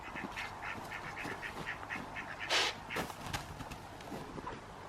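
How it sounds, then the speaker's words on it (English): A duck quacks in a quick run of short, repeated calls in a backyard near a chicken fence, with a louder burst partway through and faint shuffling footsteps in the background. "It was a duck, uh-oh."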